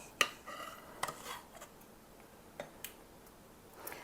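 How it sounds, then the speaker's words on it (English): Butterscotch pie filling being stirred in a pot: faint, sparse clinks and taps of a utensil against the pot at irregular intervals over a quiet background. "Then you'll want to stir that up real good."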